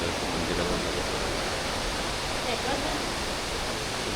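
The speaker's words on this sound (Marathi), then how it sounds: "ही बघा वाहणारी नदी" A river flows steadily near a hilltop temple in Rajapur, a constant broadband rush of water that holds even and unbroken throughout.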